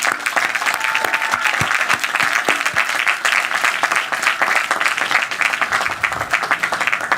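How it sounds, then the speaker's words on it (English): Audience at a 2023 commencement ceremony breaks into sustained, loud applause for the graduates, a dense wash of many hands clapping steadily throughout. "Let's applaud them again for their courage and tenacity"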